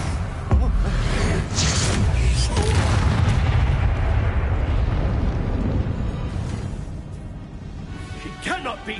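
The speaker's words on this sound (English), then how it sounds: "Confringo!" A loud, booming blast rolls out from a Confringo fire spell in the Hogwarts Legacy game, sustained rumbling and crackle for several seconds before fading, with a character's voice briefly near the end.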